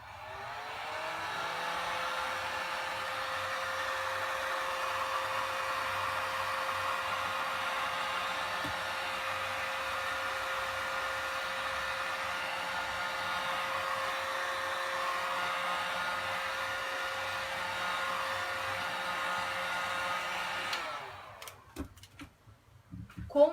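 Hair dryer drying paint on a coffee capsule holder, a steady continuous whirring blow that runs evenly for about twenty seconds, then cuts off and leaves a few handling knocks.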